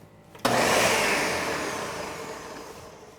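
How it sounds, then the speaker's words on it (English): A blender starts abruptly and whirs loudly, puréeing hot sauce ingredients, its motor roar steady and close before easing slightly toward the end. "putting them in a blender. We'll see how thick it is and see if we need to add more vinegar after a little blend"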